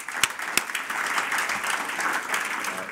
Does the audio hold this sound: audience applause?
yes